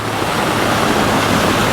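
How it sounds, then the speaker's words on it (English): A small flood waterfall about four feet high pours onto a washed-out road, giving a loud, steady roar of rushing water with no break throughout. "We've got a 4-foot waterfall here now."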